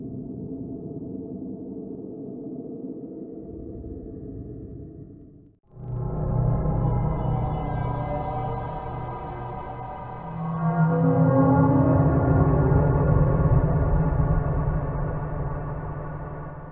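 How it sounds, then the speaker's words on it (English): Low, murky ambient drone from a Five Nights at Freddy's game that cuts out briefly, then returns fuller and brighter, swelling into a denser hum. Eerie and empty, with no voices. "This ambience plays to tell us how empty this place feels."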